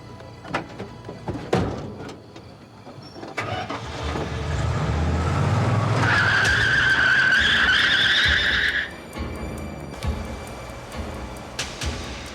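A truck pulls away hard on a road, engine revving up as its tires squeal in a long, loud skid for several seconds before the noise drops back to a rumbling drive.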